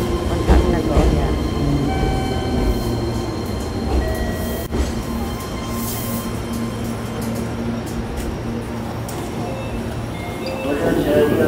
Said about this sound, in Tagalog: Ito po yung densya dito sa Japan. Medyo tahimik.